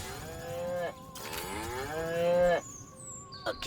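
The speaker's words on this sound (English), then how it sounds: "Again with the moo." Cow mooing in the Destroy All Humans! remake video game: two long, loud, drawn-out moos, a low droning call with a wavering pitch, followed by faint game effects.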